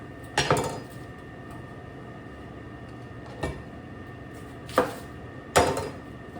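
Onions being sliced on a plastic prep cutting board: four sharp knife chops spaced irregularly, close and fairly loud, over a faint background hum.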